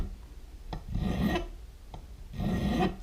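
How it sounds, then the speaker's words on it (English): A hand file rasps across metal at an angle while shaping a hand-made visor, repeated close strokes in a steady back-and-forth rhythm, alone without talk. "I'm going to just start filing at an angle"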